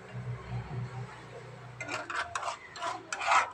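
A spoon stirring food in a pan until it browns makes quiet, uneven scraping and clinking strokes against the metal, starting after a stretch of low hum and continuing in short bursts.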